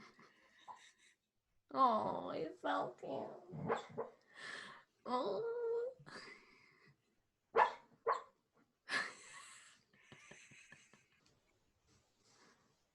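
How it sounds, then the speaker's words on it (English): A sleeping dog gives muffled little barks, whimpers and low growls in irregular bursts, quiet and close, while someone speaks softly between the sounds. "I don't know if you can hear him barking in his sleep and growling."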